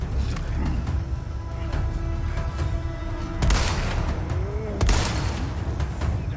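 Gunfire in the video game Resident Evil 4 Remake: a few sharp, loud shots ring out over a busy rumbling game soundtrack, with two prominent blasts a second or so apart near the end.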